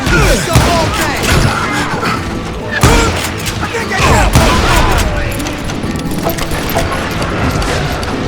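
Gunfire from a shootout with dozens of deputized shooters in the Western video game Call of Juarez Gunslinger, dense overlapping shots and booms sounding continuously, with voices talking over the fight.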